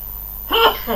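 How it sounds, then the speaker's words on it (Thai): A person with a slight cold lets out a single short, sharp sneeze close up after a moment of quiet room tone. "มันจะจาม"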